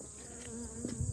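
Honeybees crowd and buzz below a honey super in a hive, a dense continuous drone close by, steady throughout with no voices.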